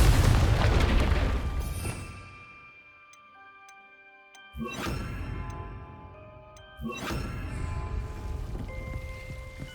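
Two booming blasts from the Confringo explosion spell in the Hogwarts Legacy video game burst out a couple of seconds apart, each followed by ringing, chime-like tones over a fading rumble.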